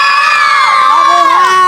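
Loud crowd of villagers in a Filipino barangay at night shouting and cheering together, a dense chorus of overlapping raised voices and whoops held close up throughout.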